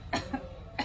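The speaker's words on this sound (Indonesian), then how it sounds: "Keluarkan secara dibatukan." Three coughs from a patient doing an effective-coughing breathing exercise, two close together then one more after a pause, moderately near and alone with a low background hum.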